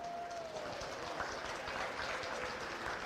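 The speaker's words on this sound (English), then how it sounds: "Let's give him a nice round of applause." Audience applause for the judge at a county beef show, a steady broadband patter of many hands clapping throughout, with no talk over it.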